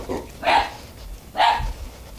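A dog on a village farmstead in Belarus's Mogilev region barks twice, two loud, well-spaced barks about a second apart over a quiet background.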